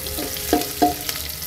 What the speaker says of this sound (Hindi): अच्छे से चला लेंगे इसे और हल्का ब्राउन होने तक इसे चलाते रहेंगे